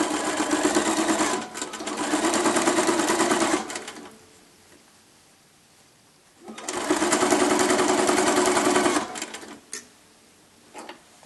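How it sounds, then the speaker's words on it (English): A sewing machine stitches quilt binding with a quarter-inch seam on a small name tag bag, running in two steady bursts of several seconds each with a quiet pause between, close and loud with no talking. "I'm going to stitch along here with a 1/4 inch seam all the way to the corner"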